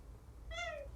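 A single house cat meows once, a clear rising-then-falling call lasting about half a second, close by over a faint low background hum.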